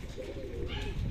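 A racing pigeon gives a faint, low cooing as it enters the loft after a training flight, soft and close against quiet background noise.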